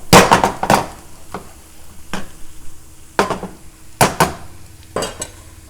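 A spoon stirs garlic into meatloaf mixture in a pan, making irregular scraping clinks against the metal, with pauses between strokes.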